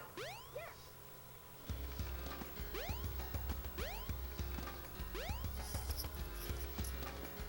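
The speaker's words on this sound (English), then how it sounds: "now we press that switch up there and it drains the whole sand right here" A switch mechanism draining sand in the Sonic Adventure video game, a repeated mechanical clanking and ratcheting rhythm over a low rumble, with rising chirping sweeps recurring every second or so.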